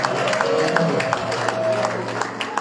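A church congregation at Beulah Church applauds and acclaims, a steady wash of clapping and crowd voices, moderately loud and continuous across the moment.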